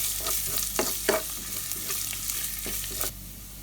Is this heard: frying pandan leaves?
yes